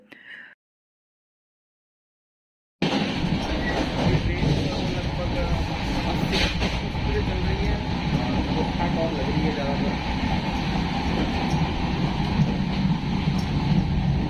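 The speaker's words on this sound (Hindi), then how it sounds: "अब ट्रेन अपने सारे प्रोटोकॉल पूरे करने के बाद में अपने रूट की तरफ निकल गई" Passenger train travelling its route at night, heard from on board: a steady, loud broadband rumble and rattle of the carriage that starts abruptly after a short silence and continues unbroken.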